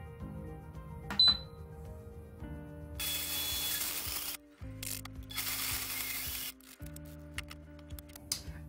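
Blender crushing hard chestnuts on its ice-crush setting, bursts of harsh grinding and rattling clatter in short pulses separated by brief gaps, close and alone with no talk.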